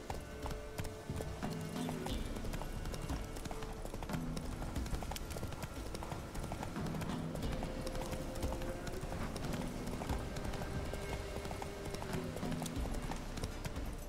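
A horse gallops in The Witcher 3, its steady clip-clop hoofbeats loud and continuous across the whole stretch alongside game music, with a snort or whinny now and then.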